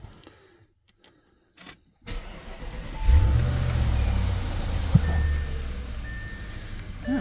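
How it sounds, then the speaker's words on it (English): An Audi S8 D4 engine, fresh from an oil change, cranks and catches after a quiet lull, then settles into a steady, close idle with a faint chime and a brief click partway through. "Oil pressure came up. Engine sounds good."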